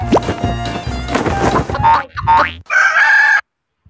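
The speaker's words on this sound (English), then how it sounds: "Cock-a-doodle-doo." A loud, drawn-out rooster crow, probably a recorded sound effect, comes during a children's math lesson, accompanied by music and other cartoonish tones, ending abruptly in silence.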